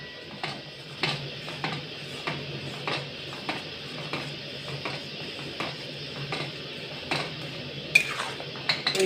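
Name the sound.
stirring mango pulp in a wok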